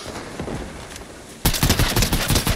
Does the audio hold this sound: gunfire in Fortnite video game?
yes